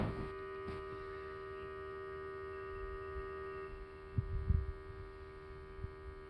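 An electric fuel pump on a Rotax 912ULS aircraft engine runs with a steady, close electrical hum for a few seconds, followed by faint low thumps and handling noise.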